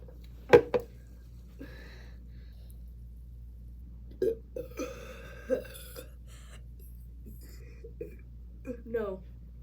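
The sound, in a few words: burping after chugging a bubbly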